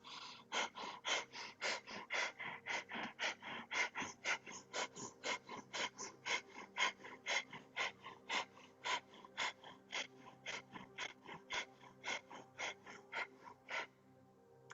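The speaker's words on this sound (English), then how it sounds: "with breath of fire, you want to feel your belly moving" Breath of fire yoga breathing, a rapid run of sharp, forceful nasal exhalations driven by the belly, about three per second in a steady close rhythm for nearly fifteen seconds, then a brief pause.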